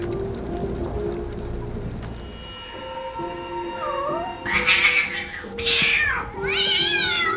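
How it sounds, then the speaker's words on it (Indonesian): A recording of a cat in pain yowls in several loud, strained cries that rise and fall, sounding distressed, over a low background hum. "memutar suara rekaman kucingnya yang sedang kesakitan"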